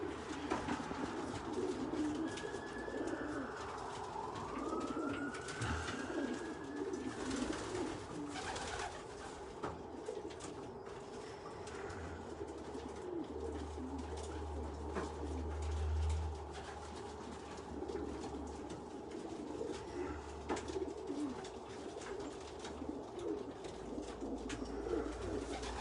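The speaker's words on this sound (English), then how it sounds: "Do we have racing pigeons?" Racing pigeons coo softly and repeatedly at a loft, the low murmuring calls near and steady over a quiet background, with no talk.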